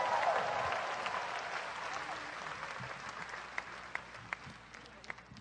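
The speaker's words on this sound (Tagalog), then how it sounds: "ibigay natin ang matunog na palakpak sa Panginoon." A crowd applauds steadily at a religious service, the clapping thinning out toward the end with a few scattered last claps.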